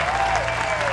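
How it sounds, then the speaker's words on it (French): Applause from the audience at a live show with a guest who speaks many Ivorian languages, a steady dense wash of clapping lasting under a second. "On va l'applaudir encore plus fort que ça"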